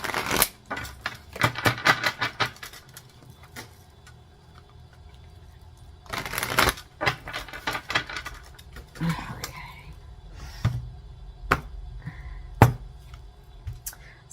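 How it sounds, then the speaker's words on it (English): Tarot cards shuffled by hand before a reading: close, crisp bursts of riffling and flicking card noise come in irregular clusters with short quiet gaps between them. "I do shuffle all the cards before I start the readings."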